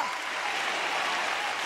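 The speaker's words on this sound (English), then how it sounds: "You clap your hands and tell God" A church congregation claps hands at an apostolic revival service, a steady, dense wash of clapping that holds the same level throughout.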